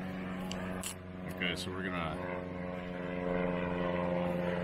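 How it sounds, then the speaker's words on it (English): A propeller airplane drones overhead during a hike along the Kettle River in Banning State Park, a steady engine hum that swells louder toward the end while a person talks nearby. "Airplane on cue."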